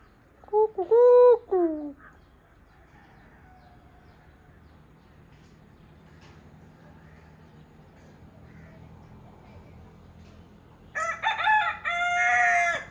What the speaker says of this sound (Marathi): कोंबडा बघा आता संध्याकाळीची बांग देतोय